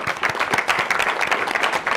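A dense burst of clapping from a crowd at a school board meeting, steady and fairly loud throughout with no pauses.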